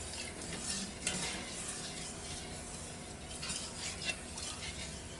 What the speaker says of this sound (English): Start stirring.